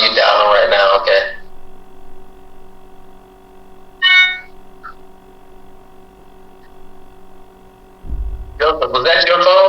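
A short electronic phone notification chime rings once between stretches of talking, standing out against a steady background hum, with voices before and after.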